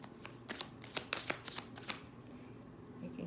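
A tarot card deck is shuffled up close, giving a quick series of soft riffling slaps and flicks that fade out toward the end, quiet and with no talking.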